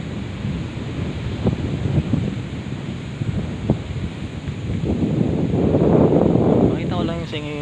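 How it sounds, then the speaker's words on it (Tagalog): Strong wind buffets the microphone on a mountain hillside, a loud continuous roar that swells toward the end, while a person talks over it. "Lakas ng hangin dito"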